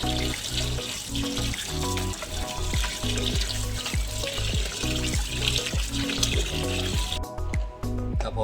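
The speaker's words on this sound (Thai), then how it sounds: "ใช้น้ำล้างประมาณสักสามสี่รอบเลยครับผมให้ ยางมันออก" Potatoes being rinsed in water to wash off the starch, with running and splashing water heard under steady rhythmic background music.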